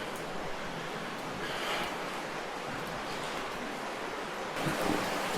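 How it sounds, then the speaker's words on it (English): Underground stream flowing through a cave on the Indian Rock House trail in Arkansas, a dense continuous rushing wash of water filling the space, steady and fairly loud throughout. "We just came down here to the creek where we heard the water flowing through the cave"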